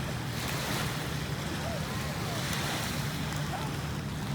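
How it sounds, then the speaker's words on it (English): Steady surf rolls onto a beach with constant wind noise buffeting the microphone, a dense wash of sound with no clear breaks and no talk. "We made it to the beach."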